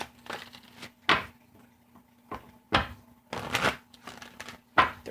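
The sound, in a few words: shuffling tarot cards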